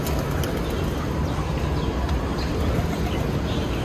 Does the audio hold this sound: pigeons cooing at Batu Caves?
yes